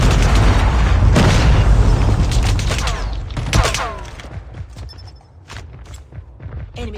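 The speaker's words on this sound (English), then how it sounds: "Predator missile inbound." A Predator missile strike in the Call of Duty Mobile game, Crossfire map, lands with a loud, close blast and scattered crackling debris that fade over several seconds into quieter rumbles and small impacts.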